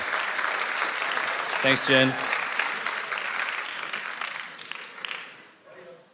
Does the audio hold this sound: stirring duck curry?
no